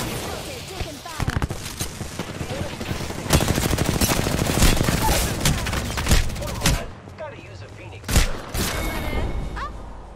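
Apex Legends weapons fire in dense, rapid bursts and sustained automatic volleys that stay loud and close, with game sounds layered underneath and a brief lull near the end before a final burst.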